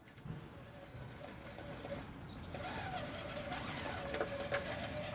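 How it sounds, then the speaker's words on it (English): An Axial Rock Lizard 2.2 RC crawler's tire lugs drone and whir against terrain alongside the small motor, a faint, steady buzzing hum that slowly builds over several seconds with a few light clicks near the end. "there's quite a bit of lug noise"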